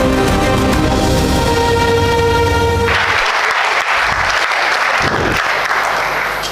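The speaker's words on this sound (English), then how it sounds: "Let's applaud the remarkable journey of Miss Lucy Mariappa." An audience applauds loudly at an alumni awards ceremony. The clapping is dense and sustained throughout and sits over music that fades out partway through.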